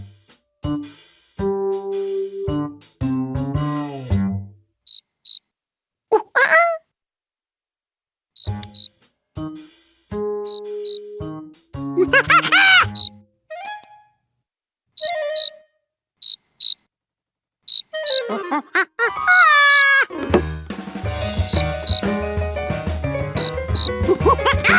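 Cricket chirping in an animated children's cartoon scene, heard as repeated bright chirps scattered among music and sound effects, with no talking.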